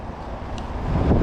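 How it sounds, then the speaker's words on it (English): Strong wind buffeting a microphone outdoors beside a 2013 Volkswagen Beetle 50s Edition, a short burst of low rumbling gusts that swell louder toward the end. "it is very windy, so you might not be able to hear me anyways."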